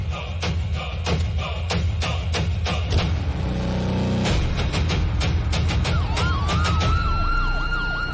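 An ambulance siren wails loudly and continuously on a road, its rising and falling tones sweeping back and forth over steady traffic rumble, with no one speaking.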